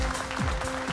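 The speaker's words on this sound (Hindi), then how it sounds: "जोरदार तालियों के साथ स्वागत कीजिए" Audience applause greeting the judges on a televised dance show, a dense, steady patter of many hands clapping close and loud, filling the whole second without pause.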